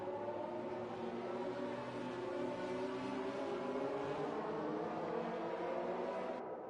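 F1 2020 race cars in a video game roar steadily at a restart in Hungary, a dense, sustained engine drone with layered rising pitches, loud and continuous throughout.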